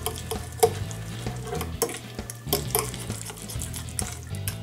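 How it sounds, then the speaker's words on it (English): Minced garlic being stirred into a butter mixture in a kitchen bowl, a steady scraping and squelching stir with soft clinks of utensil against the bowl, close and continuous with no talking. "And just mix that all together."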